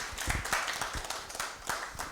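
Live audience applauds the SoA architects Kang Ye-rin and Lee Chi-hoon after their lecture, a thin, scattered patter of claps with uneven rhythm, moderately distant in a hall.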